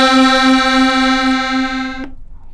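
Accordion on its full musette register, with all three reed blocks (M minus, M, M plus) sounding together. One held note has a bright, buzzy, beating tone, sustained for two seconds and then cut off, with no talk.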